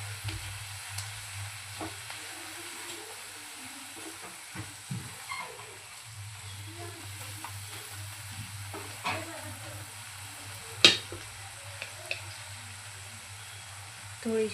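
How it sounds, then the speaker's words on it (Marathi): Chopped tomatoes cooking in a pan for masala oats soup, a soft steady sizzle and fry with faint stirring scrapes under a low background hum. "यामध्ये टोमॅटो आपल्याला छान असं शिजवून घ्यायचं आहे."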